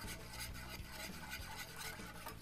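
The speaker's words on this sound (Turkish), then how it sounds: "Tüm malzeme birbiriyle bütünleşene kadar karıştırıyorum." A spoon stirs a cocoa, flour, starch and butter pudding mixture for a chocolate orange muhallebi in a pot, a faint continuous scraping and rubbing with an even rhythm and no talking.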